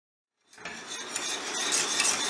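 A spoon scrapes and stirs thickening custard in a metal pot over a medium flame, starting after a short silence and building into continuous close clinks and scraping.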